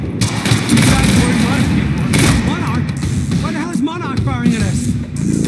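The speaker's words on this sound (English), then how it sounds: "Why the hell is Monarch firing at us?" Monarch troops firing on the player in the video game Quantum Break, with sustained loud automatic gunfire and booms throughout, while characters shout and talk over the shooting.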